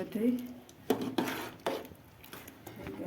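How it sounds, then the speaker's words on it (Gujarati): A spoon scrapes and clanks against a metal pot in a few distinct strokes while stirring Gujarati dal dhokli, with quiet background hiss between them. "આપણે આવી રીતે હલાવી નાખશું એટલે મિક્સ થઈ જાય"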